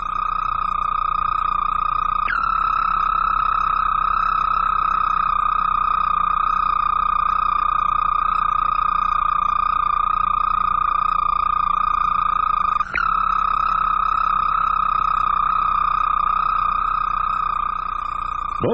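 Toads in a pond during mating season sing a loud, unbroken high trill that holds a steady pitch; a brief click breaks it twice, with no voices.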